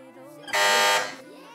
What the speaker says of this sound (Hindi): बजर बजाई है फैजान एकेडमी वालों ने